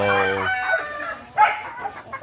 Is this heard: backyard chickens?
yes